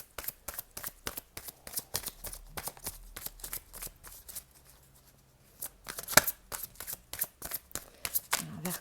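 Oracle cards shuffled by hand in quick, crisp riffling bursts, close and fairly quiet, with a short pause midway before the shuffling resumes.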